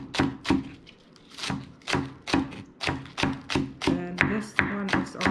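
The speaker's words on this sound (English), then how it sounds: "You simply just cut the top off and start slicing it like that." A knife slices spring onion on a cutting board, a steady run of about a dozen crisp, close chopping taps in an even rhythm.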